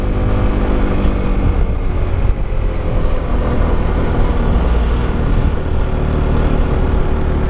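A 2022 Honda CB150X motorcycle engine pulling in third gear at about 6000 rpm up a steep slope, a loud steady drone mixed with heavy wind rush throughout.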